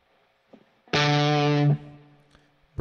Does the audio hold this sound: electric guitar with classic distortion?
yes